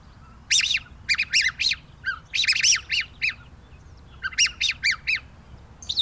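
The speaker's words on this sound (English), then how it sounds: "This is a little songbird call." A little songbird chirps in quick clusters of bright, high tweets separated by short pauses, fairly close, over faint low background noise and with no voices.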